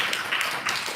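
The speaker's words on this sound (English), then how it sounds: "you've got a round of applause for your question" Audience applause at a community meeting in East Sheen, Mortlake and Barnes, a steady bed of many hands clapping together for about a second, moderately loud and continuous with no voices on top.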